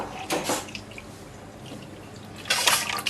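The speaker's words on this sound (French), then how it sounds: "Dedans, on y rajoute un peu de lait de noix de coco." Coconut milk is poured from a one-litre carton into a bowl, giving two short liquid splashing bursts with a quiet pause between them.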